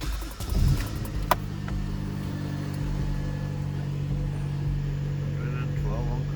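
A Honda Accord Type R engine turns over, catches and settles into a steady running drone with a brief rev near the start, fairly close, while people talk over it.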